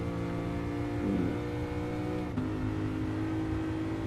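A Lexus RC-F's engine drones steadily at high revs on a timed track lap, a sustained close-up interior hum with a brief dip and pickup midway, no voices.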